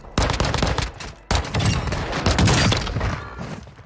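Rapid pistol gunfire from Call of Duty: Warzone 2 on the Modern Warfare II map, heard as dense, loud bursts of shots with a brief pause near the start before the firing resumes and continues steadily.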